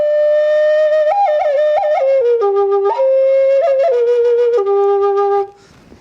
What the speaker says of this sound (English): This is a double flute here.